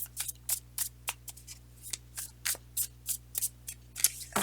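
Crisp, rapid riffling of a deck of tarot cards being shuffled, in repeated short bursts with a steady low hum underneath.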